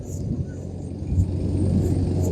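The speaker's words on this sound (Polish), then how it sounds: "trzy autobusy podjechały" Airport transfer bus pulling up on the apron: a low, steady diesel engine rumble with a faint whine, growing slightly louder as it approaches, under light background noise.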